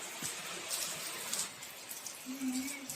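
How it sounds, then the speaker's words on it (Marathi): Soft, steady rain patters and hisses continuously, fairly faint and even throughout. "मस्त भजी कोबीची आणि छान पाऊस पडतोय हो"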